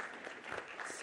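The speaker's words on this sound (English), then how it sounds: "Yes, that deserves a clap." An audience at the Climate Forward 2023 event gives brief, faint, distant-sounding applause, an even patter of many hands with no speech.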